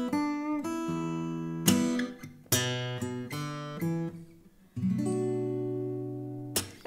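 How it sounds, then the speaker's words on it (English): A short minor blues intro riff on fingerstyle acoustic guitar, with plucked notes on the top strings and a thumb-played bass line, clean and close, ending on a sustained chord, with no talk. "it starts with a riff on the top two strings, and then we have the riff played with the thumb"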